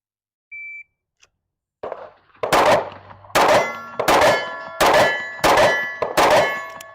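A Staccato 900 handgun fires in controlled pairs: six sharp, ringing shots in steady rhythm, each with a metallic clang, preceded by a short electronic beep and near silence.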